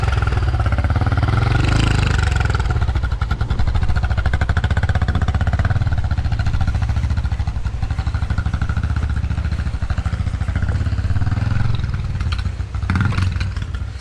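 A dirt motorcycle grinds over large rocks in a riverbed, its engine droning loud and close throughout with constant revving, clatter and rattle from the terrain.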